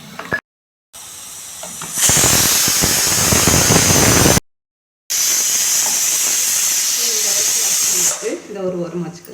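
A mixer grinder grinding almonds and cashews whirs loudly in two bursts separated by a pause, a harsh high-pitched grinding roar, with a voice briefly at the end.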